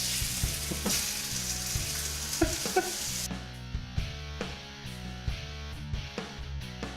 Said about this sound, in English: now that our pan is nice and hot, we're going to add our beef